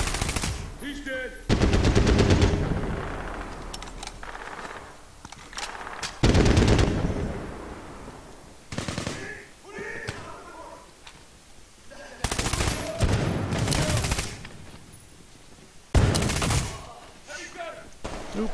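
Heavy gunner machine-gun fire in the shooter game Medal of Honor Warfighter: loud, sustained automatic bursts a few seconds long, separated by quieter gaps and shorter rattles.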